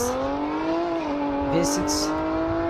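A V6 engine revs up and holds a rising, buzzing tone, with a couple of brief hissy bursts near the end; close and loud.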